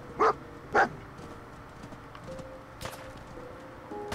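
A dog barks twice in quick succession in the video game Fallout 4, short and moderately loud over quiet game ambience, followed by faint scattered sounds.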